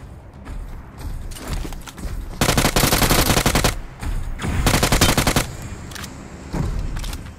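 Automatic gunfire in the battle royale game BGMI, with a P90 in the fight, comes as loud sustained bursts of rapid shots and shorter volleys between them, and there is no talk.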